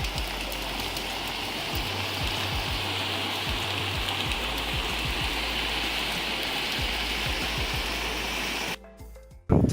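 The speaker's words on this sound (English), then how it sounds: "We were taking a nice walk and got caught in the rain" Rain falling on an umbrella during a walk in the Guilin area, a dense, steady patter of drops drumming close overhead for several seconds before cutting off abruptly at the end.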